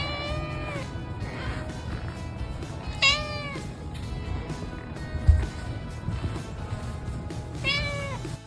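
A small kitten, undersized for her age, gives three clear, high meows spaced a few seconds apart over quiet indoor background noise, close to the listener.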